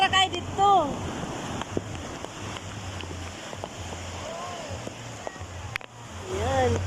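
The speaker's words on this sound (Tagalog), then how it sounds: "Grabe ang alon, pwede dito mag-ano, surfing." Big ocean waves wash and rumble in a broad continuous surge along a surf beach, with gusty wind and people talking over the noise.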